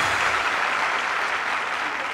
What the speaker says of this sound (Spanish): Un aplauso para ellos, hombre.